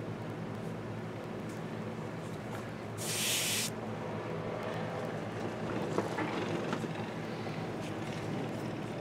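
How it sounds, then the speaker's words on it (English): A single-action airbrush sprays paint in one short hissing burst onto a Reaper Hill Giant Lowland Warrior miniature, painting skin tones, rising briefly over a steady low room hum. "a single action airbrush where you just press it down and it just sprays out the paint"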